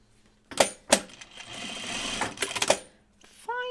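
Sewing machine stitching an anorak seam in short bursts: two quick stitch runs, then a longer steady whir with a few more stops and starts, fairly close, ending with a faint voice.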